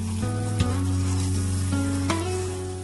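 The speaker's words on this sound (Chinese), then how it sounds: "再加1大勺酱油，1小勺盐，1小勺糖，适量的白胡椒粉，翻炒均匀" Chicken stir-fried in a wok with soy sauce, salt, sugar and white pepper gives a steady, close sizzle throughout, with a couple of brief clanks from the spatula against the pan.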